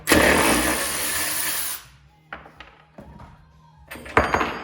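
A nut held with a 3/4 inch wrench is spun loose from a stud with a socket during work on a Harley FLTR bagger. A loud, sustained whirring burst of a power tool cuts off abruptly, followed by a few sharp metallic clunks and a final louder clack.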